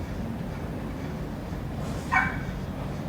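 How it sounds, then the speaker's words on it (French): A single short dog bark in the Minecraft video game, heard once partway through over a steady low background hum with no talking. "Ok, je prends ce chien."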